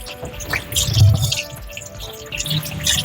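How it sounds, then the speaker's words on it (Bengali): Fresh mangoes being rubbed and washed by hand in water, with close, continuous splashing, dripping and sloshing over a few seconds, no talking. "এখন আমগুলোকে আমি ভালো করে ধুয়ে নেব চটকে চটকে ধুতে হবে"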